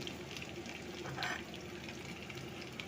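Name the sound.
mustard seeds spluttering in hot sesame oil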